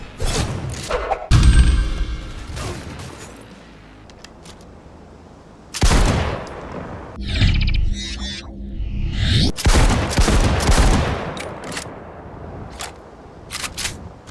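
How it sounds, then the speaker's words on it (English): Crusher auto shotgun fired in a first-person shooter game, heavy booming blasts in separate bursts with slow spacing between shots, mechanical clacks and quieter gaps in between. "The Crusher is underwhelming, doesn't seem to bother enemies half the time, like it's firing plastic BBs or something. As an auto shotgun, it's pretty slow firing"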